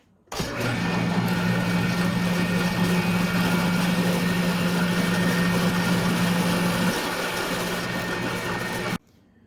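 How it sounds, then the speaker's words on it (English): A steady, loud drill motor whine runs continuously for about eight seconds with a constant low hum while a spade bit bores into wood for a tobacco pipe, then stops abruptly. "I'm just going to drill in a little bit, get this going"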